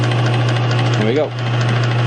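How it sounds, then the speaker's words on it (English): Rollers on a drill press click in a quick, regular rhythm as they pass over a line in the stock. A steady motor hum runs underneath, and a voice is heard briefly. "That click that you're hearing coming around, right here, there's a line in the stock"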